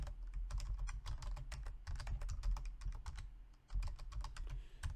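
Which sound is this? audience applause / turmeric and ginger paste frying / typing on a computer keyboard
typing on a computer keyboard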